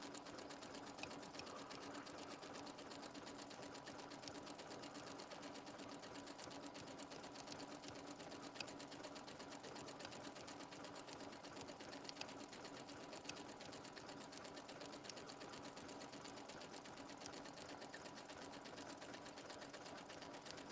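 A sewing machine runs with its foot pedal pressed fully to the floor, a fast, even mechanical stitching whir with a faint rapid tick, steady and unbroken throughout, quiet and close.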